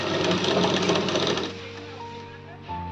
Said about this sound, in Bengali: এখান থেকে কিন্তু আমি সেলাই করে যাব যেমন যেমন ড্রয়িং আছে ঠিক তেমন তেমন সেলাই করে যাবো